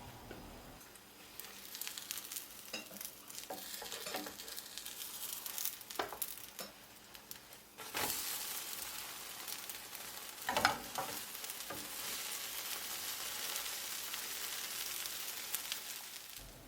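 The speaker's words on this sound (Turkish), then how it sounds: "Alt tarafı kızardıktan sonra çeviriyorum." Potato and onion crepe batter sizzles and fries in a pan, a continuous crackling hiss with scattered pops and a few louder spatters, close and steady throughout with no voices.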